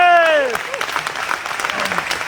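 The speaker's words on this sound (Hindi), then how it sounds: "जोरदार तालियों" Loud applause from a crowd at a talk, a dense burst of clapping heard over a voice that trails off at the start, continuing steadily to the end.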